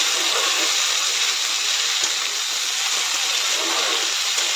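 Potatoes and chickpeas poured over onions fry in a pan with a loud, dense, continuous hiss and sizzle and a faint clink partway through.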